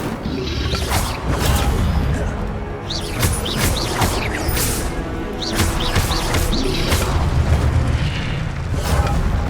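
An Incendio fire spell cast in Hogwarts Legacy erupts as a loud, dense fiery roar with repeated booming bursts and whooshes, continuous and forceful throughout amid game combat.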